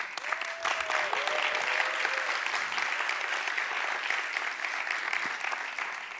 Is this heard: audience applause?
yes